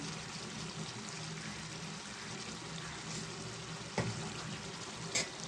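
Crabs frying in a pan with chili powder and coriander, a steady soft sizzle with a couple of brief clinks or stirs near the end.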